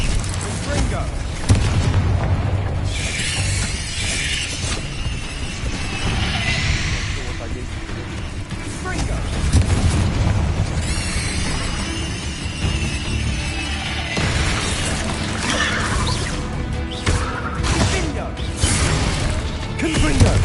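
Booming fire-blast spell explosions from the Confringo spell in the video game Hogwarts Legacy, going off one after another over a busy battle soundscape. The blasts come at close range and loud, with a constant rumble in between.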